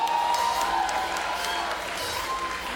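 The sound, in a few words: audience applause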